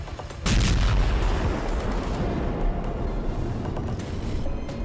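An air strike explosion in Qatar, heard as a loud, sustained broadband roar and rumble that starts abruptly and holds steady with no voices.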